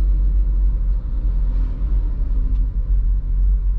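A Honda Mobilio creeps forward in stop-start traffic at a red light, its engine a low steady rumble heard from inside the cabin, with no talk.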